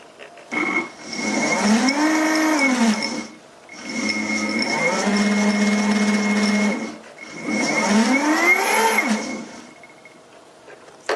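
An Armortek brushless drive motor for a 1/6 scale Panzer IV runs on the bench in three separate bursts, each whining up in pitch, holding a loud, close hum, then winding down with brief quiet gaps between.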